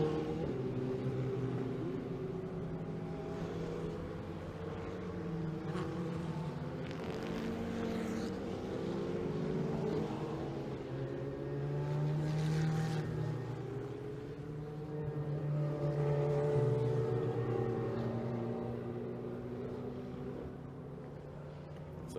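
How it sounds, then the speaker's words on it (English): Ferrari Challenge Europe race cars roll slowly into the pit lane at Autodromo di Imola in 2019, their engines giving a low, droning hum that swells and fades as they pass, distant and quiet. "So the cars making their way into the pit lane, and Parc Fermé"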